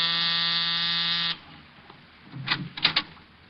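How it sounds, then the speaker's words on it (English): A loud, harsh electric apartment door buzzer drones steadily for over a second, then cuts off, followed by faint shuffling and small knocks. "A half hour after I left George Victor, I was punching the buzzer to Saxon's apartment."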